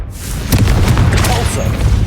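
A Confringo fire spell goes off in the Hogwarts Legacy video game, landing as a deep, rumbling boom with a burst of crackle over a sustained low roar, loud and close, with a voice talking underneath.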